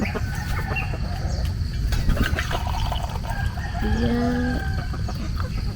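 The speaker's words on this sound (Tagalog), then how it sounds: "Takot ako sa mga manok." Chickens cluck and a rooster crows at a rural farm campsite in Mendez, Cavite, with bird calls scattered through steady outdoor background noise; a person briefly speaks.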